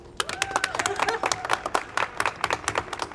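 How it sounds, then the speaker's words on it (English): Scattered audience clapping at a student government candidates forum, uneven bursts of hand claps over about three seconds with faint crowd murmur underneath. "Clap."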